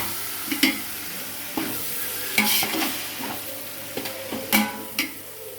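Tomatoes with ginger garlic and curry masala powder sautéing in a pan, a low continuous sizzle punctuated by several scraping stirs of a spoon against the metal, close by with no voices.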